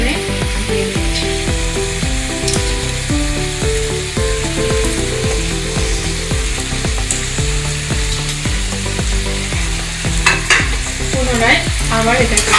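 Bengali-style mutton curry with potatoes and smashed tomatoes sizzles in a pan while a spoon stirs and scrapes through it repeatedly, the frying steady and close under a continuous bed of background music.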